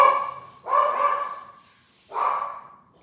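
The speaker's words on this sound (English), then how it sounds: "There must be somebody walking their dog." A dog barks outdoors in two separate bursts, each one loud and close, with a pause between them and no voices over it.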